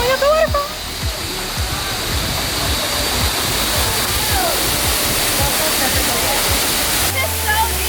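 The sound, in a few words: Seven Wells waterfall in Langkawi, Malaysia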